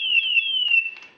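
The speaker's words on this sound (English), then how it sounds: "this is going into alarm" A GFG G460 gas detector going into alarm during manual calibration, giving a loud, piercing electronic tone that holds steady and warbles slightly for about a second before tailing off.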